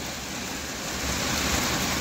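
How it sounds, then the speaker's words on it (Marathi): Heavy rain pours outside during a sudden downpour, a steady, dense wash of hiss that holds even and unbroken throughout, with no voices over it. "आणि परती जोरात पाऊस चालू आहे"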